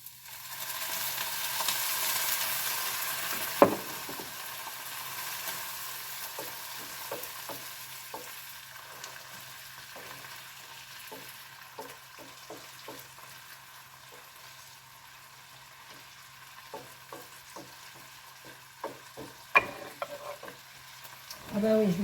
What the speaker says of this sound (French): je vais mettre du vinaigre balsamique à réduire